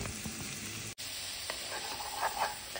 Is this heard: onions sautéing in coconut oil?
yes